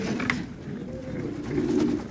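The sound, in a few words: pigeons cooing near nest with squabs and eggs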